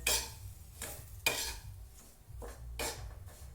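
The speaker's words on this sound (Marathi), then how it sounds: "आपण आता मस्त फिरवून घेऊ." Semolina being stirred and roasted in a pan for upma, with repeated scraping strokes of a spoon against the metal and a light sizzle underneath, the strokes coming at a steady rhythm close by.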